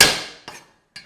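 Garlic and ginger bashed for a Korean pulled pork marinade, one heavy thud followed by two sharper knocks spaced about half a second apart, close and loud with quick decay.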